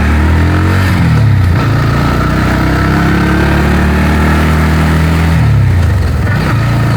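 A geared two-wheeler engine, ridden by a learner working the clutch and shifting gears, drones loud and close throughout, its pitch rising and falling as the revs change.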